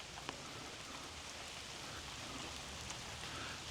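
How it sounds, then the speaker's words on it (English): Steady rain falls on a tropical forest around Mayan ruins in San Ignacio, Belize, a dense even hiss with a few sharper drop ticks, continuous and fairly close, no voices. "I don't mind a little bit of rain, but I don't want to be drenched."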